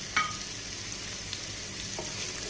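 Sliced onion, garlic and ginger fry in oil over a high flame for a Lucknowi chicken biryani. A soft, steady sizzle runs throughout, with a couple of faint stirring clicks and no talk.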